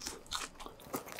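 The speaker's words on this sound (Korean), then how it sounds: "요거는 케찹에다가 한번 제가 찍어서 먹어볼게요" A homemade Hot Cheetos cheese stick dipped in ketchup is bitten into close up, giving a few crisp, crunchy bites and chews with no talking.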